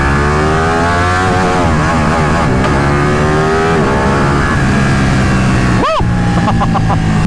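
A Ducati Panigale 959 sport motorcycle with a loud exhaust revs and holds a steady drone, then a sharp rising-and-falling rev burst near the end, close by.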